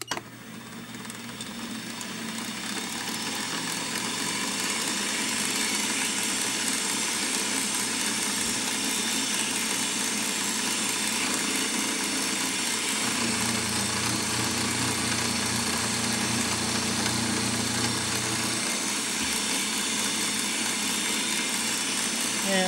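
Machine cutting a metal ball cup at 1800 rpm, a steady, close, continuous whine and hum that holds throughout, with a lower tone entering midway.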